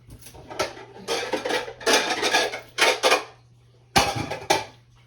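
A bigger mixing bowl is fetched and set down among kitchen dishes and utensils, producing a series of clattering, rattling knocks and clinks in bursts, with a couple of sharp bangs; nobody speaks.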